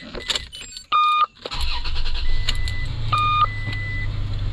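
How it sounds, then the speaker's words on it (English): A Toyota car starts after a few short electronic chimes: the starter cranks briefly, then the engine catches and settles into a steady, close idle rumble, with another pair of chimes over the running engine. "let's go ahead and give her a good crank"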